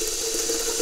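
Water poured onto a potted peace lily houseplant, a short steady trickle of running water at close range with no talking.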